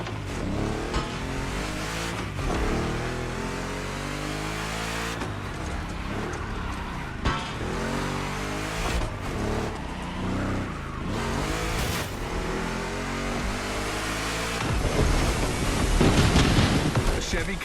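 A Chevy Camaro's engine roars and revs loudly and continuously in The Crew Motorfest racing game, with gear-like pitch sweeps and a louder surge near the end.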